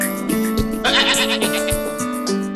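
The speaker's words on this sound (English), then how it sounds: "We chose a goat because we wanted our own milk supply." A goat on a small self-sufficient New Zealand farm kept for its milk gives a loud, close, wavering bleat lasting the whole moment, with a couple of short thumps beneath it.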